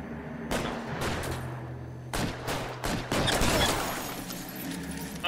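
Gunfire in the video game L.A. Noire: a rapid burst of shots, then a pause before several more sharp volleys in quick succession, loud and close over a steady low background hum.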